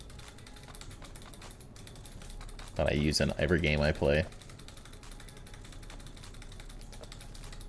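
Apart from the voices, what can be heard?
mechanical keyboard being typed on rapidly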